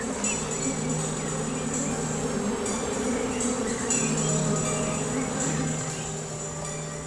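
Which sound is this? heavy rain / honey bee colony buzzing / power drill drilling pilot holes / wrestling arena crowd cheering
honey bee colony buzzing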